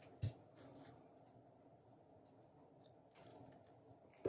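Scissors trim the crinkly edge of paper for a handmade Christmas golden book craft, giving faint, sparse snips in a quiet room.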